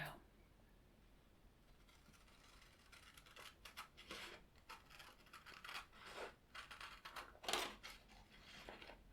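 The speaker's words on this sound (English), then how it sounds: "I'm going to just cut inside the line that I've drawn." Scissors snipping paper along a drawn heart outline for a Danish Christmas heart, close, soft crisp cuts in irregular short bursts with rustling paper, quiet and intimate with a brief louder snip near the end.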